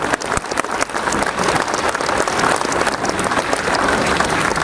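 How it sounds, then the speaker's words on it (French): Loud, dense crowd applause at an outdoor speech and blessing by a priest at a Cap d'Agde biker gathering, sustained clapping with no talk over it. "Applaudissez les 4 flics qui ont fait un signe de croix."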